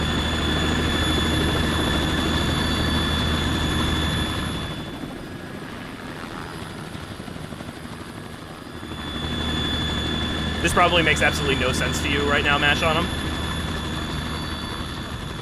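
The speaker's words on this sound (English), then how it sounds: "I love how they made the helicopter real authentically loud" Loud, steady rotor drone of a helicopter in the video game Metal Gear Solid 2, filling the first few seconds, fading, then returning under someone talking and other game sounds.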